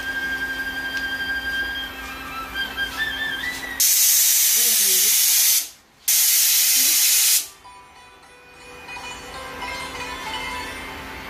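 Pressure cooker venting a loud, sustained steam hiss while yakhni with lotus stem cooks, cutting off briefly and resuming before fading back into quieter kitchen background with faint tones.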